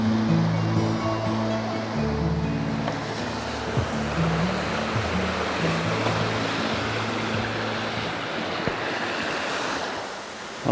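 A Snowdonia waterfall gives a steady broad rush of falling water, with wind buffeting the microphone and some low handling noise near the start.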